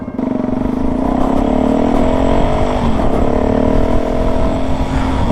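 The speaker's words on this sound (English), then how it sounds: "it is very poppity with this aftermarket exhausty on board" Yamaha XT660X supermoto single-cylinder engine with an aftermarket exhaust, a steady close, loud throbbing idle and rev with a sharp popping crackle from the pipe throughout, no talking.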